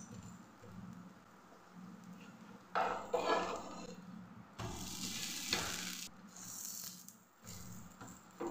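Dosa batter poured onto a hot pan sizzles and fries close by, with the hiss swelling in bursts between quieter stretches, plus occasional light scraping and stirring sounds.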